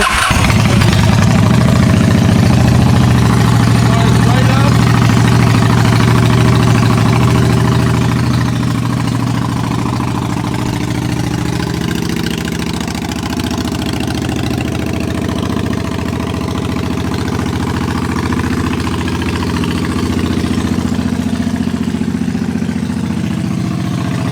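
A Honda Shadow motorcycle engine cranks and fires, then settles into a loud, steady idle in neutral with a low, even throb that runs on unbroken and close by, with no talk over it.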